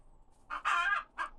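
A few short chicken clucks close by, a quick burst of squawky calls followed by one more cluck, with quiet in between.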